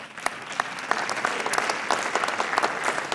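Audience applause at an ocean summit, dense sustained clapping from a large crowd with scattered louder claps throughout, steady and fairly close.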